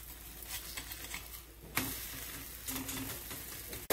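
A roti just flipped on a hot pan gives a quiet, steady sizzle with faint crackles, and a sharper burst of frying noise partway through, close and alone without talk.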